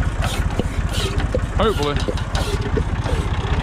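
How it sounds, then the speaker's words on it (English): Old tractor engine running steadily while pumping water from a pond in South Carolina, a close, loud rhythmic chugging idle throughout, with someone speaking briefly over it. "This tractor right here is gonna run for 4 days non-stop."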